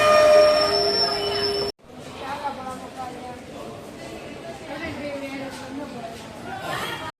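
A Madurai–Sengottai passenger express at the small Sengottai railway station opens with a sustained tonal horn-like blast, then rolls on with a moderate rumble under a murmur of passenger chatter.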